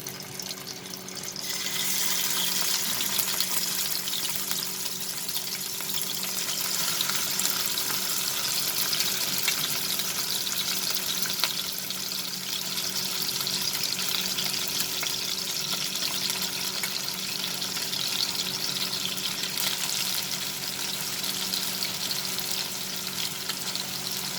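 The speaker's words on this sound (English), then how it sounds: "we are going to lightly fry these prawns" Prawns frying in hot oil for an okra and prawn dish: a steady, dense crackling sizzle that starts abruptly and holds at an even level with no talking.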